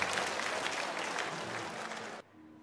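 An indoor studio audience at a televised antiques appraisal event in Nanning claps to welcome a ceramics expert. The applause is dense and sustained, then cuts off sharply after about two seconds, leaving a quiet room hum.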